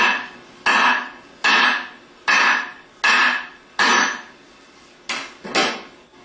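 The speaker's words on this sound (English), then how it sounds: "place it on the shaft, and hammer on the top of the wood" Seven sharp hammer blows strike a chunk of 2x4 wood resting on a Bosch alternator shaft, evenly spaced, close and loud, each with a brief ringing decay, the last two lighter.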